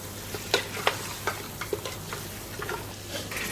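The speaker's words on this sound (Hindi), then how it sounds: "अब हम इसके अंदर गोश्त डाल देंगे। थोड़ा सा भूनने के बाद हम इसके अंदर सारे मसाले डाल देंगे। अब हम इसको भूनेंगे।" Meat (gosht) frying with spices in a pot for degi aloo gosht, with soft sizzling and several sharp stirring scrapes and clinks at an uneven pace, close and moderately quiet, no talking.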